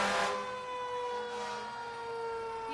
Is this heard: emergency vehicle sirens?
yes